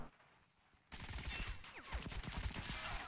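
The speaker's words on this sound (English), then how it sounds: "It's a heavy machine gun." Heavy machine gun fire in the video game Call to Arms on an oilfield map, a dense loud burst of rapid gunfire and explosions that starts abruptly after a quiet moment and keeps going.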